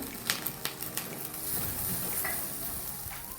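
Butter-basted tandoori chicken roasting, a few quick light taps at the start, then a dense, even sizzle that carries on close by to the end.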